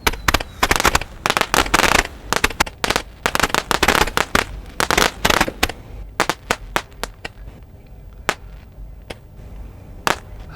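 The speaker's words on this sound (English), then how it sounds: "one of the fireworks kind of falls apart in his hands" Roman candle fireworks fire off during a Canada Day outing in Toronto, a rapid barrage of sharp pops and cracks that thins into scattered, spaced bangs toward the end, loud and close with no talking.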